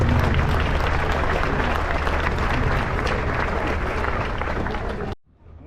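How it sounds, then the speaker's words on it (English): A dense round of audience applause and crowd noise, steady and loud for about five seconds before cutting off sharply into near silence. "Give him a round of applause, ladies and gentlemen."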